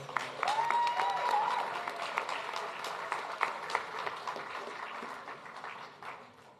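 Applause from the audience for the band at a volunteer recognition awards night, a sustained wash of many hands clapping that gradually fades, with a brief whistle near the start.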